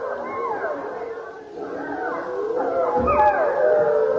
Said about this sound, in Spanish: son lobos de los Apeninos, no muy lejos de Roma.